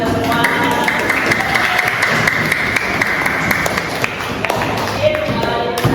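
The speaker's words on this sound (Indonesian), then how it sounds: "tepuk tangan untuk kita semua" A fifth-grade class claps together during a lesson on the Hajj pilgrimage, with uneven, fairly close hand claps and thumps mixed with children's voices.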